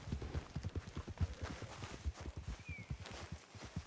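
Racehorses' hooves drum steadily at a horse race in the RedM western game, a rapid, even clip-clop of several horses close by, with faint background noise and no talk.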